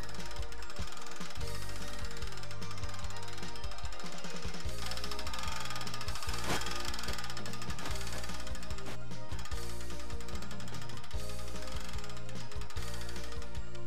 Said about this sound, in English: Crank the mast winch to extend the mast to the desired height.